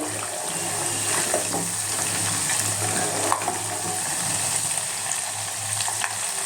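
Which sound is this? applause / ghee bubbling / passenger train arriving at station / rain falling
ghee bubbling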